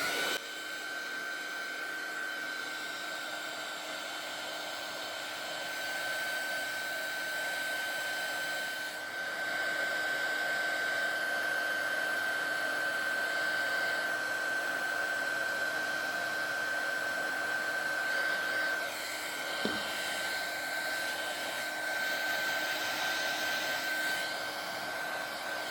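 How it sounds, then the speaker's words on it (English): A heat gun blasts hot air over a handmade Christmas card, giving a steady, loud airy roar with a faint whine. It runs continuously and alone for the whole stretch, with no talking. "coming back in with the heat gun, and I'm going to give that a blast"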